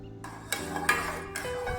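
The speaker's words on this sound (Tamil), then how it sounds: "கரண்டி வச்சு நல்லா கலந்து விட்டுடலாம்" A metal spoon clinks and scrapes against a vessel a few times while jaggery water is stirred, with soft swishing between the knocks.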